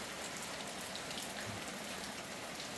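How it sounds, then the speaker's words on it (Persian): Steady spring rain falls in a remote rural spot late in winter, a dense, even hiss of drops on surfaces with no pauses and no voices. "خیلی خوب داره میباره، بارون بهاری هست."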